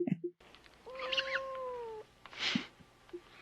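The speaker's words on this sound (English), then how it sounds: "I got all these cats." Cats in a 1976 science-fiction film, meowing in a couple of short, clear calls over a quiet film background, close and moderately loud.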